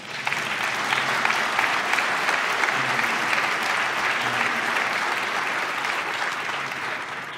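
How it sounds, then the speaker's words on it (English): A conference audience gives steady, full applause that holds for several seconds, a dense wash of many hands clapping at even volume with faint voices underneath. "Now you can clap."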